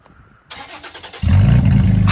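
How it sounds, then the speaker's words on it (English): A Toyota Tacoma with no exhaust fitted cranks briefly, then fires up with a sudden, very loud, raw roar that stays heavy and close for the remaining second. "in case you guys are wondering how it sounds with no exhaust"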